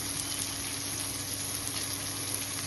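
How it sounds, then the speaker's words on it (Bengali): Two onions fry in a pan after garlic, ginger, capsicum and shrimp have been fried, making a steady, even sizzling hiss throughout with no talking. "এবার ভাজছি দুটো পেঁয়াজ ভাজা।"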